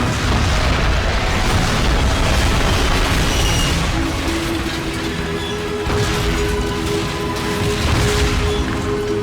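An artillery shell slams into an armored column in a Call of Duty battle, a sustained, loud, rumbling explosion roaring continuously with crashing debris and no voices.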